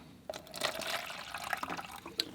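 Clean water poured into a bucket while setting up for a watercolor painting session, a short splashing and trickling fill of about two seconds with small drips, heard up close and alone.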